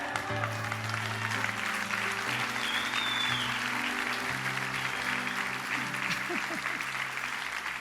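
Steady applause from a church congregation, sustained clapping filling the whole stretch with a low hum of background sound beneath it.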